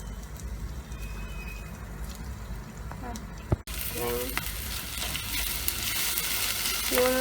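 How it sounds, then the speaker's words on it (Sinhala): Onions with cashews added sizzle steadily in a hot pan for pineapple curry, a continuous frying hiss that grows louder midway after a brief clatter, with faint stirring and background noises. "ලුණු ටික ටිකක් බැදීගෙන එනකොට කජු ටිකත් ඒකට එකතු කරගන්නවා."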